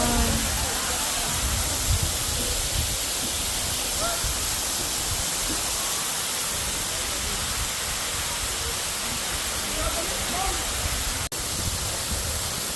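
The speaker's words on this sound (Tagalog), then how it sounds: "Matlag Waterfalls ng Tanay Rizal." Batlag waterfall in Tanay, Rizal, pours in a loud, continuous broadband rush that fills the whole clip, heard up close and steady with no breaks.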